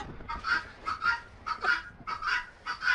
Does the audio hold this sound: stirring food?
no